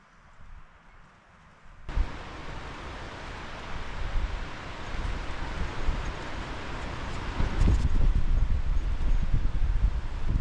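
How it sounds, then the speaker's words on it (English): Strong wind gusts buffet a bivvy shelter at a wild camp, starting quiet then surging in loud, rushing waves that build and stay roaring, with rustling flaps against the fabric and no voices. "the wind has been absolutely crazy. You can hear it gusting through over there, coming around the corner."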